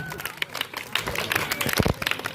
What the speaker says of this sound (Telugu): ఎంప్లాయీస్ అందరికీ మీరందరూ క్లాప్స్ కొట్టాల్సింది